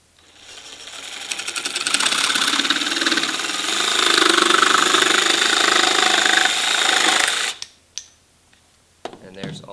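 An electric jigsaw, also called a saber saw, cuts through wood, a loud buzzing rattle that builds and holds for several seconds, then stops, followed by a few light knocks.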